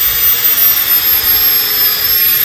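A power drill drives a spade bit into hardwood while fitting a new floor in a cattle crush: a loud, steady, unbroken whirring grind that holds throughout.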